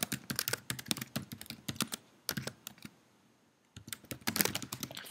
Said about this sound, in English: to set up a user, all you have to do is type in an email address